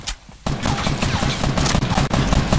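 Dense, loud bursts of rapid gunfire in a Fortnite Battle Royale solo match, continuous overlapping shots filling the whole stretch after a brief quieter opening, with a voice faintly underneath.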